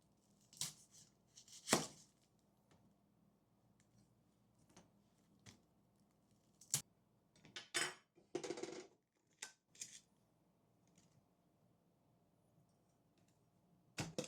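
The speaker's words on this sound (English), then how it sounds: "Now I'm going to chop up the onion." A knife chops an onion on a cutting board in a home kitchen during holiday meal preparation: scattered crisp, close taps and slices at an uneven pace, some in quick clusters, with quiet pauses between.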